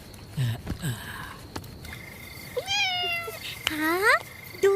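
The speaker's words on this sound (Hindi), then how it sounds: "हाँ, दूसरी बिल्ली।" Cat meowing indoors in a village home, two drawn-out rising meows close by after some soft shuffling and sniffing, with a few quiet background sounds between calls.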